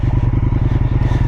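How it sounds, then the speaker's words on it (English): A 2023 Indian FTR 1200 Carbon R V-twin motorcycle engine runs close by with a steady, loping pulse, its low lumpy beat loud and continuous throughout. "I like hearing the engine running"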